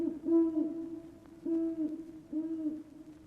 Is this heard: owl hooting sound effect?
yes